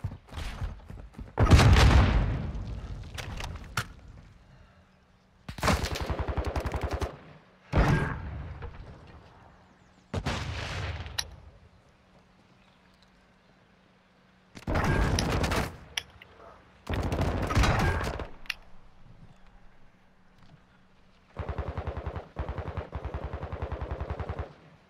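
Gunfire in Call of Duty: Modern Warfare II search and destroy multiplayer, heard as about eight loud, sharp bursts of several seconds each, separated by short quiet gaps over a low steady hum, with no talking.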